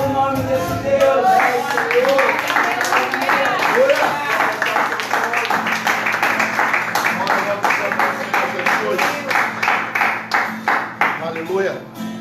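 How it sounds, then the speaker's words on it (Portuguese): Church congregation applauding in sustained, dense clapping that rises and thins toward the end, with voices and singing heard throughout. "Olha, aplaude o nome desse Deus."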